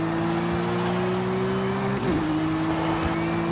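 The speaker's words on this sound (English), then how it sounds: "This is how a flat six should sound." Porsche 992 911 GT3 RS flat-six engine in Forza Horizon 5, a steady, loud high-revving drone that dips briefly as it shifts gear mid-way, then holds a constant tone, with no talk.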